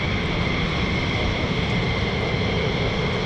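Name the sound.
F-15E Strike Eagle fighter jets running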